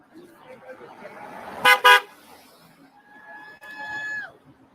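Cars passing a roadside protest where people stand holding signs, with two sharp horn blasts close together, then a longer steady honk from a passing vehicle over road noise.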